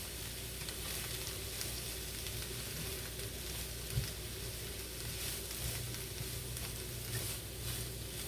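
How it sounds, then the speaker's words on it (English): A packed pan of cabbage and meat frying for crackslaw gives off a steady, dense sizzle, with faint scraping thumps as it is stirred now and then; no one talks. "So we're just gonna mix this up a little bit."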